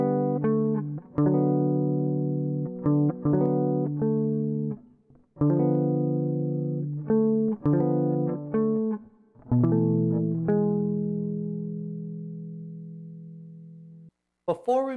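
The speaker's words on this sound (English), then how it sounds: "So if I play them together without any time, they're going to sound like this." A clean electric guitar plays a slow sequence of chords and single notes, unmetered with small pauses between phrases, ending on a long sustained chord.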